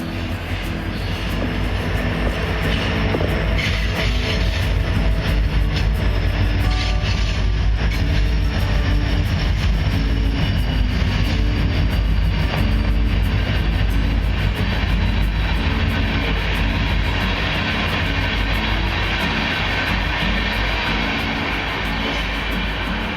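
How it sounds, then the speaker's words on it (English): A train passes during an outdoor hike, a loud continuous broadband rumble and roar filling the whole stretch with steady intensity, close by. "have a train coming through, so this will be fun"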